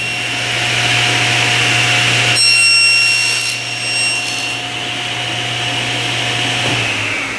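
A power saw runs with a steady, loud whine throughout, its pitch shifting slightly midway, with no one talking.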